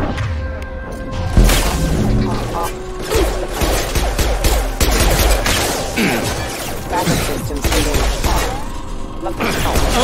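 Dense, sustained gunfire from Mass Effect 2 combat rattles on for the whole stretch, with sharp shots, impacts and shattering crashes layered thickly together.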